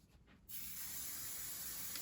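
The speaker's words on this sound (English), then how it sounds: "when the hairspray is sprayed" Hairspray from an aerosol can comes in one long steady hiss that starts suddenly after a brief quiet moment and keeps going, loud and close, in a small lab demonstration.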